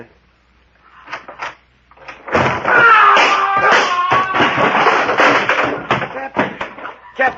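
A door opening in an old-time radio adventure drama, heard as a short knock-like bump and clatter, then a sustained busy burst of sound effects and layered noise lasting several seconds, closing with a few sharper thuds.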